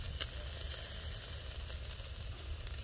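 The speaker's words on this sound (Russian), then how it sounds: "какие наши эти ребрышки жарятся" Steady, quiet sizzling of pork ribs on a grill, a continuous hiss with faint crackles and no talking.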